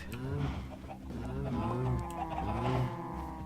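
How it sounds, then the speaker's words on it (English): Chickens cluck in a video game, several birds layered into a steady, fairly loud farmyard chorus of overlapping calls lasting a few seconds. "Lots and lots of chickens."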